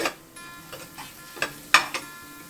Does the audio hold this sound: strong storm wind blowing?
no